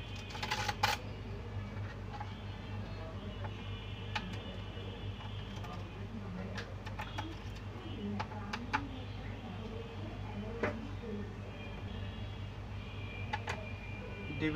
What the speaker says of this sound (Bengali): প্রথমে ব্যাক সাইডের রাবারের নিচে স্ক্রু কটা খুলে নিতে হবে।